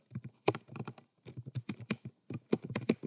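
Keys on a computer keyboard are typed in quick irregular bursts of close, light clicks while an SQL insert query is entered into a MySQL database from a PHP setup.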